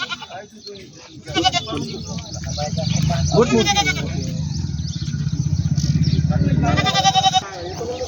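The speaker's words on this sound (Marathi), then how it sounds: "संपूर्ण जातीच्या शेळ्या तुम्हाला या बाजारामध्ये पाहायला भेटणार आहेत" Goats bleat loudly several times at a goat market in Hingoli, over a busy background of crowd chatter and a rumbling engine.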